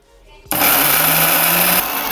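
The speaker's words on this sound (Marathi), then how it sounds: "परत झाकण लावून मिक्सर चालू करते" A mixer grinder churns mutton masala paste with poha and water, its motor kicking in abruptly after a brief quiet moment and holding a loud, steady, close whirring roar.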